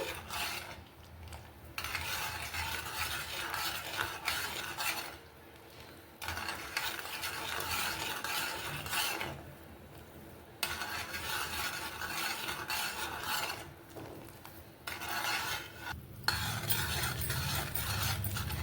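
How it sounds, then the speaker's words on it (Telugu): Sugar syrup for Mysore pak stirred in a pan over a medium flame: continuous close scraping strokes with a soft sizzle, broken by brief pauses, steady for the whole stretch with no talking. "ఇలా కలుపుతూ పాకం రెడీ చేసుకోవాలి."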